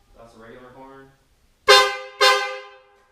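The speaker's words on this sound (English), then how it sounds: "That's a regular horn." A Duramax pickup's stock horn honks twice, two loud close blasts of under half a second each with a short gap, after someone speaks briefly.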